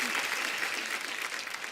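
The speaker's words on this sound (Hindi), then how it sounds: "एक बार जोरदार तालियां कृति के लिए।" A TV comedy show's studio audience gives loud, dense applause that holds steady for a moment, with no talking over it.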